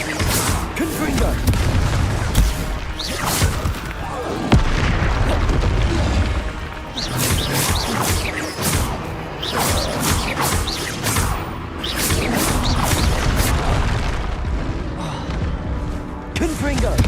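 Confringo fire-blast spells from Hogwarts Legacy burst in loud, repeated explosions, with booms and crashing impacts following one another almost without pause while voices talk over the action.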